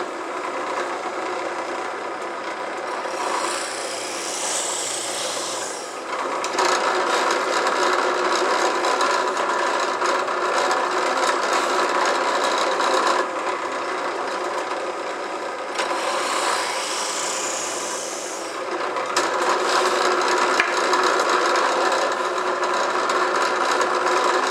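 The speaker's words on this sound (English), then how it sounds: "I've just got to drill out all of my wheels now and the axle" Power drill boring holes through wooden toy trailer wheels and axle slots in a wooden chassis, a loud steady whine running in two long bursts with a brief drop between them, close up and without speech.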